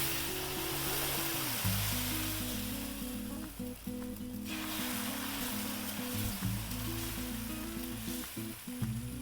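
A ladle of thick Kannur-style dosa batter sizzles on a hot, oil-brushed dosa griddle: a close, steady hiss over a low hum, dipping briefly midway before the sizzle returns.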